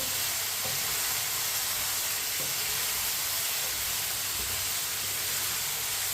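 Tomatoes sizzle in a pan over a medium flame while a spoon stirs them. A steady close hiss of frying runs throughout, with a few faint scrapes from the spoon.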